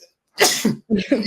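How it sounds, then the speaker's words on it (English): One person in a studio gives a sharp, sudden sneeze, a quick inhale and burst followed by a short second expulsive puff, heard close and alone. "I'm about to sneeze."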